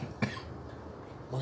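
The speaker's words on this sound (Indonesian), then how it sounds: "Gak usah pakai batuk." A single short cough, fairly faint, followed by quiet room noise and a small throaty sound near the end.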